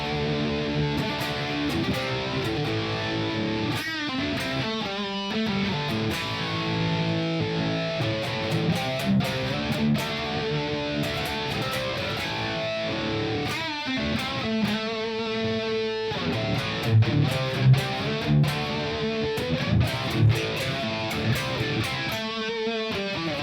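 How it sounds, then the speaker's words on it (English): An electric guitar plays through a Fender Mustang Micro headphone amp set to flanger and reverb, giving sweeping, swirling chords and notes with a spacious tail. The playing is continuous and fairly loud, with no talking. "Next we have flanger and reverb"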